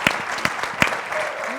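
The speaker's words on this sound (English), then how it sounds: "let's give her a big round of applause" Scattered applause for a campaign worker at a political event with an assemblywoman and a state senator, a few sharp claps standing out over a softer, thin patter of hands, moderately close.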